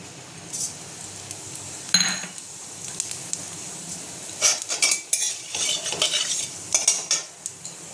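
Whole cumin and a torn bay leaf sizzle in hot oil for a Bengali-style are fish jhal, with a steady hiss broken by metal spoon clinks and scraping stirs against the pan, close and fairly loud, with no talking.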